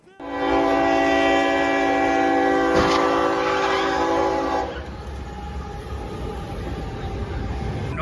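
A passing train blasts its horn in one long, loud, sustained tone for about four seconds, then the horn cuts off and the rumble and clatter of the train carry on close by.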